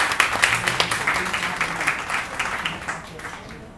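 Audience applause at a live music venue welcoming a singer to the stage, a dense burst of many hands clapping that gradually thins and fades, with little else over it.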